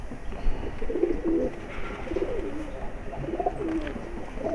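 High-flyer pigeons coo in soft, repeated rolling phrases over a steady background hum, several calls overlapping at close range.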